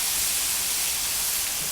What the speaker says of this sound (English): we're just going to put that on our preheated flat top